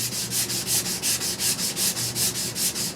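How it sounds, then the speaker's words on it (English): A knife blade is hand-sanded with sandpaper in even back-and-forth strokes, about five per second, each a bright close rasping scrape with no talking. "hand sanding"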